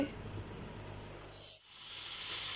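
Garlic ginger paste cooks in a pan while it is stirred with a spoon, giving a soft, steady hiss and sizzle that dips briefly and then returns slightly stronger.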